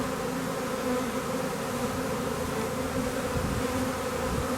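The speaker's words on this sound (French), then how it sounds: "Je vais secouer la grappe directement devant la ruche" A honeybee swarm clustered near a hive gives a dense, continuous buzzing drone, close and steady throughout with no voices.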